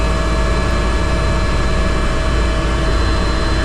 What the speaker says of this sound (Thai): ตอนนี้เราก็อยู่ระหว่างการสตาร์ทเครื่องยนต์นะครับ